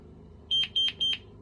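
GE Simon XTI alarm panel sounding its door chime: three short, evenly spaced high electronic beeps, fairly clear over a quiet low background hum.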